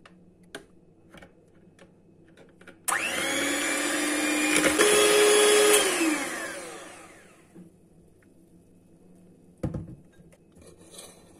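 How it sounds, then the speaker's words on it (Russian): An electric hand mixer whirs through pancake batter for pear fritters, switching on abruptly, running a few seconds with a slightly rising whine, then winding down, with quiet kitchen clatter before and after. "нам надо сейчас это все размешать любимым нашим миксером"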